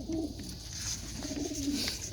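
Racing pigeons coo softly and repeatedly inside a loft before a race day, low rolling calls overlapping steadily close to the microphone.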